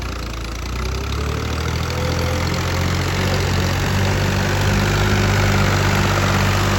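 A tractor engine runs steadily beside a flooded Satluj River, a low, continuous idling rumble with a faint knocking texture that swells slightly toward the end, with no voices over it.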